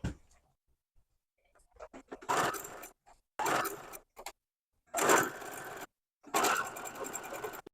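A sewing machine stitching quilt pieces in short bursts of rapid mechanical whirring, four runs of about a second each with quiet pauses and small handling clicks between them.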